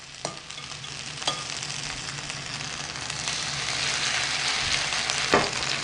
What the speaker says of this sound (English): So you just take heaping spoonfuls and you put it in the oil